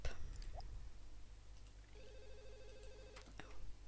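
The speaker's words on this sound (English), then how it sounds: "Oh, I was too late to answer the phone." Telephone ringing in The Sims 1 video game, a repeating electronic ring pattern over a steady low game hum, moderately loud with brief clicks.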